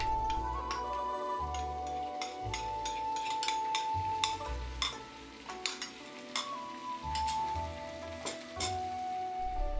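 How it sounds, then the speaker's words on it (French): Garlic, shallot and ginger sautéing in oil in a pan, a steady near sizzle with scattered ticks and pops and low clattering stirring sounds throughout, no voices. "Faire revenir 30 secondes l'ail, l'échalote et le gingembre."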